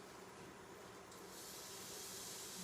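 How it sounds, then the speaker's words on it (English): Chopped onion hits hot canola and olive oil in a pan, producing a soft, steady sizzling hiss that grows slightly louder partway through, faint and with no voice over it. "There you go, and I've got some sizzle on that."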